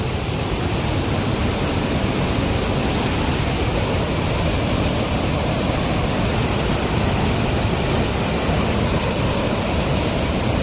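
Rushing water of a waterfall stream at Paithalmala, a dense, continuous roar that stays loud and even throughout, with no voices.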